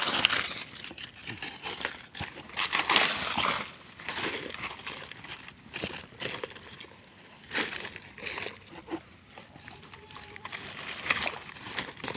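Water poured from a container onto soil and dead leaves in a home garden, heard as close, uneven sloshing and splashing with crinkling of leaves. The sound is fairly faint and rises and falls over about twelve seconds.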